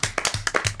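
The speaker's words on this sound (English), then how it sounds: "Everybody wake up and clap your hands." Hands clap in several sharp bursts, a small group striking in loose rhythm at close range, each clap short and bright with brief gaps between them.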